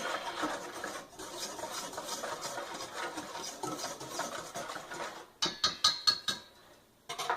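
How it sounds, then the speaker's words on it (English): A whisk stirs cornstarch and salt in a bowl for Korean pancake batter, making a soft, steady scraping swirl that gives way to a few sharp taps against the bowl's rim. "We're going to add half a teaspoon of salt. We're just going to whisk that up."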